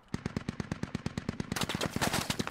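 A heavy machine gun fires in a Squad Ops military video game, a rapid, steady stream of loud, close shots that rises into denser, harsher bursts midway.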